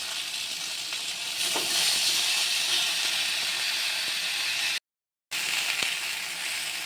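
Ginger sizzles steadily in hot oil in a pan for a katla fish curry with taro and potato. The frying hiss is loud and continuous and breaks off briefly near the end.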